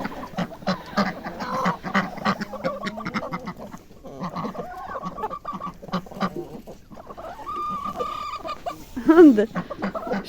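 Backyard chickens cluck repeatedly at close range, irregular bursts of fowl calls with a louder squawk near the end, while someone talks over them.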